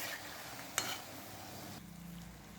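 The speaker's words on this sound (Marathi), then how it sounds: "या रंगावर सर्व शंकरपाळे तळून घ्यायचे आहेत" Maida shankarpali deep-fry in oil over medium heat, giving a quiet continuous sizzle with one sharp clink partway through as the pieces are turned.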